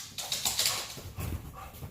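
A pet dog whimpers and whines in short, uneven bursts over a couple of seconds. The sound is close and moderately loud, with no talking.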